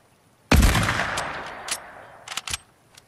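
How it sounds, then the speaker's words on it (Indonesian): In Fortnite, a single loud blast strikes suddenly and rumbles away into a decaying roar, followed by a few fainter sharp shots or impacts. "Oke, di sana ada orang. Kita tembak dari sini aja ya."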